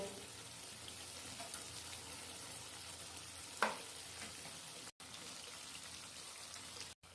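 Spice paste and chili powder frying in a pan, a faint steady sizzle like light rain with one sharp utensil knock and brief cuts of silence, no voices present.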